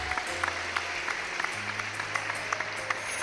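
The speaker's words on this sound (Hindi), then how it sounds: "अपने लिए बहुत ज़्यादा तालियां बजा दीजिएगा आप।" Contestants and audience at a televised Ramadan debate competition applaud in a studio. Steady crowd clapping carries distinct sharp hand claps at close range over a low, sustained background tone.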